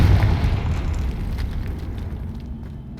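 A Confringo blasting spell in Hogwarts Legacy explodes with a deep, heavy boom that rumbles and slowly fades out over a few seconds, loud and close.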